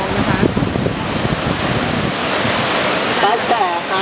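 Rushing water of the Golden Whip Stream in a rocky mountain valley in Zhangjiajie, a loud continuous roar with someone talking over it.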